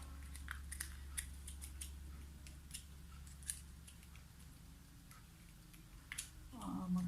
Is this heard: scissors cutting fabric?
yes